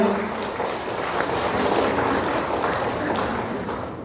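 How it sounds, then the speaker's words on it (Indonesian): A crowd claps steadily at a Malay World conference, a dense wash of applause that holds throughout and fades slightly at the end. "Tepuk tangan yang meriah"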